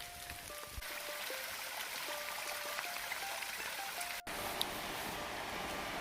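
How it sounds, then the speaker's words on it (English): Steady rain pattering through the woods on the Appalachian Trail in North Carolina, a continuous broadband hiss of drops on leaves and ground, with no talk. "Here comes the rain."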